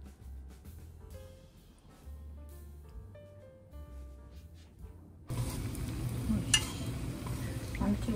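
Food sizzling in a frying pan as it is stirred, a quiet clinking start giving way to a loud, steady hissing fry that continues to the end.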